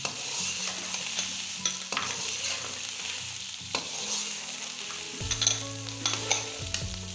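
Green peas sizzling in a pot of mixed vegetable pulao as they are stirred in, a close, dense hiss broken by clinking and scraping of the spoon, with no voices.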